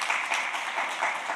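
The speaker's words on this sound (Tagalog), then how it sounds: "Sige po, isa pang palakpak para sa Diyos." A church congregation applauds at a worship service, a steady, bright wash of many hands clapping together throughout, fairly close and without pause.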